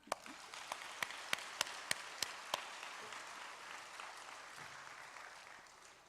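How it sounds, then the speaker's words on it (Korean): A church congregation at a Sunday evening service begins with about eight sharp, evenly spaced claps in unison, then breaks into softer, scattered applause that fades away. "언제 또 오실런지 모르니까 우리 안 계신 동안에 박수 한번 해드려요."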